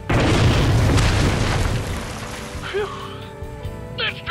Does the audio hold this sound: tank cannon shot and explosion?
yes